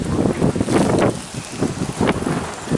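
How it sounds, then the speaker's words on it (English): Strong, cold wind blows hard outdoors on a hilltop field at a sweet potato harvest, roaring in broad surging gusts that buffet the microphone loudly throughout, with no talking. "So it's cold and windy up here today, and the wind is really blowing."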